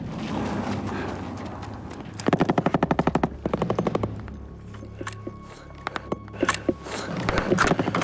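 Machine gun fire in combat, with rapid bursts of automatic shots close by, separated by short pauses and mixed with scattered single shots and background commotion.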